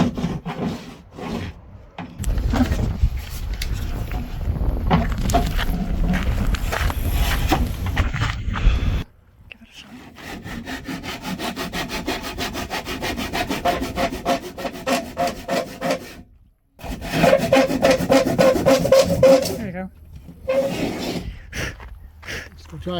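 A hand saw cuts through wood along the outside of a marked line, producing loud, rhythmic rasping strokes in several bursts separated by brief pauses, with people talking nearby.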